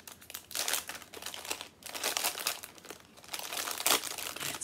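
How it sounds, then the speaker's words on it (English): Plastic packaging from a Costco diamond painting kit crinkles in repeated bursts as it is unwrapped, close and crisp with short pauses between handfuls, no talking. "Crinkle, crinkle, of course."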